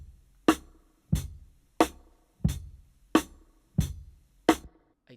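Drum kit captured through a single microphone, seven evenly spaced hits with a sharp attack and short ringing decay, somewhat roomy and quiet, with no voices over it.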